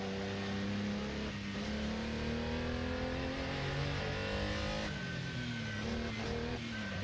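A Porsche 911 engine in the Assetto Corsa racing game revs hard and continuously, a loud, droning mid-pitched roar that rises and falls through gear changes, with no talk over it.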